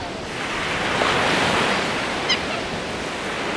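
Ocean waves wash steadily onto a beach on Boracay in the Philippines, a broad continuous roar of surf mixed with wind buffeting the microphone, with a faint chirp briefly cutting through near the end.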